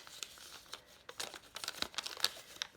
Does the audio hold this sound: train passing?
no